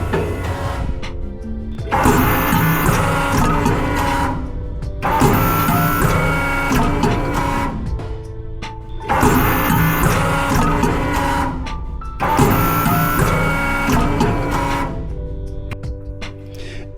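SAVI TFK-700 cross cut veneer clipper running, a loud repeating mechanical cycle of clattering, whirring bursts roughly every three to four seconds with brief quieter gaps between, with no talking.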